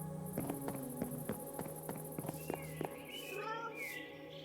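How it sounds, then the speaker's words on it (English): Minecraft cats meow in a small village among game footsteps and clip-clopping, with several short sounds spread over a steady background and a longer call near the end. "There's even cats."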